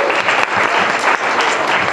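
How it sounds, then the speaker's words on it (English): An audience gives a round of applause for students at a thank-you event, a dense, continuous wash of many hands clapping at once, loud and close throughout. "can we just give students a round of applause?"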